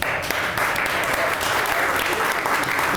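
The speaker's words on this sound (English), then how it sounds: "I'd love applause for him" An audience at a fire house ribbon-cutting ceremony applauds with dense, steady clapping that fills the whole moment, loud and close.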